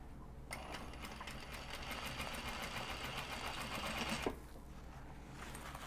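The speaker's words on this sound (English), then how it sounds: "go in and do the white top stitching on these guys" A sewing machine runs white top stitching on a small Japanese-fabric crossbody sling bag, humming in one steady, continuous run for about four seconds before it stops and leaves near quiet.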